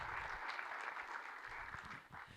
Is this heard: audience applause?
yes